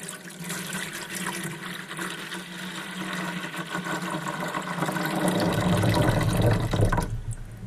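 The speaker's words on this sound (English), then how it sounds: "And we'll pour the spring water in" Spring water poured from a bottle into an Anbull portable ice maker, a steady close trickle and splash that grows fuller and louder toward the end before cutting off abruptly.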